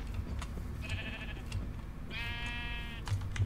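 Sheep in the Minecraft IndustrialCraft modpack, two bleats heard, a short one and then a longer, louder wavering baa, over low game ambience with soft clicks and no voices.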